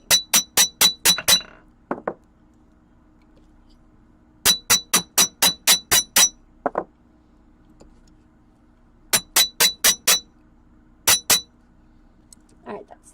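Metal U-shapes for a necklace are hammered flat in sharp, ringing bursts of four to seven rapid blows, separated by short pauses and quieter taps, close and loud.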